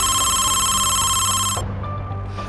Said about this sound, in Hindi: इस खतरनाक कॉल की घंटी दिवाली से पहले किसी के भी मोबाइल फोन पर बज सकती है